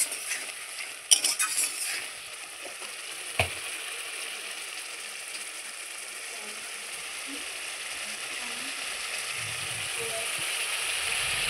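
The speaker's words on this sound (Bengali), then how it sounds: "মশলা খুব সুন্দর করে ভাজা হয়ে গেছে, দেখুন এই যে তেল ছাড়তে শুরু হয়ে গেছে" Turmeric, salt and other spices frying in oil in a pan as they are stirred for a river-fish curry: a steady hiss of sizzling oil, with a few scraping knocks from the stirring near the start and no talk.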